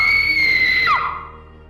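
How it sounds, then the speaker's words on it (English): A single piercing scream rises shrill and loud, holds for a moment, then breaks downward and trails off into fading reverberation, heard alone without talk. "a piercing scream cracked my eardrums"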